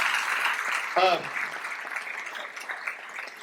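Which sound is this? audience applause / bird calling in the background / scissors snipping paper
audience applause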